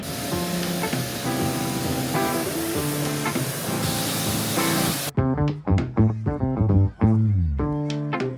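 A jet washer sprays water in a garden before painting, a loud, close, steady hiss for about five seconds that then cuts off abruptly.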